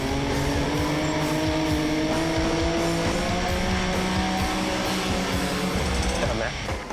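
A car engine revving hard while drifting around corners, a loud sustained whine with rising and falling pitch, close and continuous for several seconds, with faint background noise underneath.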